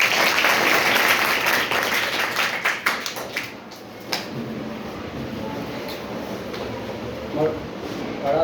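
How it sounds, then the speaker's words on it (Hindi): Students in a classroom burst into a round of applause, loud dense clapping that thins out after a few seconds into scattered claps and shuffling, with a voice speaking nearby. "ताली बजाएंगे।"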